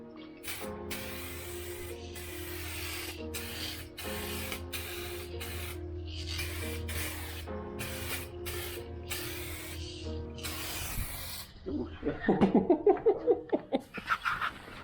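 Spray gun laying 2K clear coat onto a Lectric XP e-bike frame: steady hissing bursts that start and stop in a rhythmic series, over a low steady hum, then louder crackling mechanical rustle near the end.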